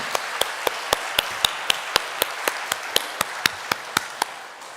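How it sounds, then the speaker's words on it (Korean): A church congregation claps along in a steady rhythm during a Sunday worship service, about eighteen sharp, evenly spaced claps at a moderate tempo, fairly close and clear with no voices over them. "박수로 하나님께 영광을."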